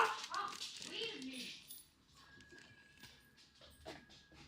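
A pet dog indoors gives a few short, high vocal yelps and whines near the start, followed by quieter rustling background sounds.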